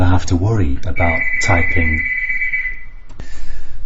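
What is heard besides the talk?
doorbell ringing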